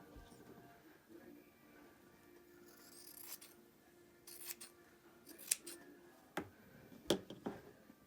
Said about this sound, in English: Maybe I will trim this up a little bit so I know where to stop.